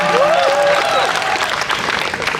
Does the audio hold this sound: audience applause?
yes